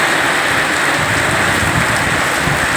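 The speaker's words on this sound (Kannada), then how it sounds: "ಇದೇ ಥರ ಮಳೆ ಹೋಯ್ತಾ ಇರಬೇಕು" Heavy rain pours steadily outside a canteen, a loud, dense and unbroken wash of falling water close by with no voices over it.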